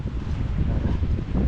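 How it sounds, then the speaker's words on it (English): Wind at a freezing winter campsite, a steady low rumbling roar buffeting the microphone, continuous and fairly loud with no talk. "It's just the wind."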